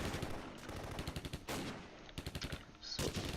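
Video game gunfire in Close Combat as Soviet infantry is shot down: rapid machine-gun bursts and scattered shots rattling in quick clusters, fairly loud and continuous, with no talk.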